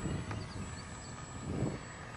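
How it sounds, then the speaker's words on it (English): A HobbyKing Extra 260 radio-controlled model airplane drones overhead on its maiden flight, a steady, fairly distant motor hum with a slight swell toward the end. "Let's do a go around and see if we can get it to land somewhere in this county."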